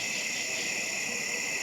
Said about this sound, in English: You can hear the cicadas are out now.